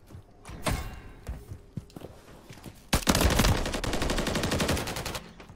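Rapid gunfire in Modern Warfare 3, scattered single shots and clicks at first, then a loud sustained burst of automatic fire for about two seconds.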